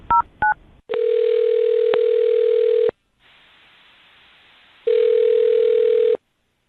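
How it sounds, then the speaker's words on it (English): Two quick dialing tones beep, then a steady telephone tone hums for about two seconds, a brief hiss, and another long tone follows. "I'll dial her phone number right now"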